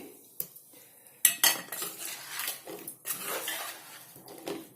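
A spoon stirs an amla and green chilli pickle mixture in a metal vessel, with sparse clinks and scrapes, a couple of sharp knocks, then softer intermittent stirring.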